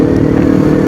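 A 2024 Kawasaki New Ninja 250 Fi motorcycle engine runs close and loud with a steady, gritty rumble.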